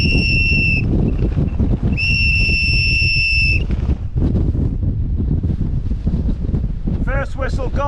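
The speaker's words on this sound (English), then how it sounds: "First whistle gone, over." A mountain rescue team sounds whistle blasts on a windy mountainside, two long, shrill, steady tones separated by a pause and buffeted by heavy wind roaring on the microphone, followed by brief voices near the end.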